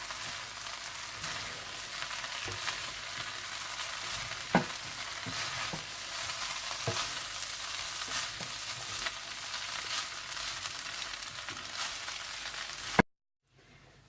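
Schezwan rice with vegetables and green onion stirred and mixed in a hot pan, a steady soft sizzle with scattered spatula scrapes and taps, ending in a brief silence.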